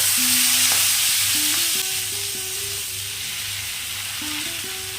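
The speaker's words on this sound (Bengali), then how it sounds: "জিরেগুলোকে লাল লাল করে ভেজে নিয়েছি এবার আমাদের কেটে ধুয়ে রাখা শাকগুলো দিয়ে দেব" Chopped leafy greens frying in a pan with cumin seeds browned in oil, a loud steady sizzle with stirring scrapes and a few faint tonal beeps running underneath.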